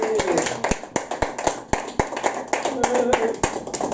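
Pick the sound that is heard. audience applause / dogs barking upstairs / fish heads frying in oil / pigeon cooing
audience applause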